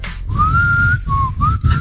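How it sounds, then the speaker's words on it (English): A person whistles a few sustained, sliding notes close by, with short breaks between phrases over a low background rumble. "excuse me, why you whistling?"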